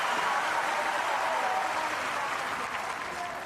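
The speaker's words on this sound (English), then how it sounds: "The crowd are really getting behind the French archer now." Sustained, dense applause from a large crowd at a para archery competition, loud and steady throughout with a slight fade toward the end.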